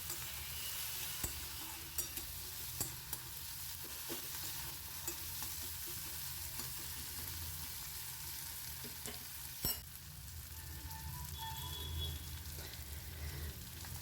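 Onions frying with salt in a pan for a bottle gourd and fish-head ghonto, a constant quiet sizzle with intermittent spatula clicks and scrapes, near and low in level, no voices.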